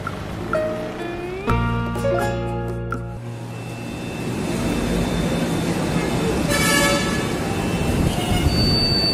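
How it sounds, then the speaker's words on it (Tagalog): A train rumbles and rolls in with a steady low roar, a brief whistle-like tone and squeals early on, under faint background voices. "Parating na yung tren."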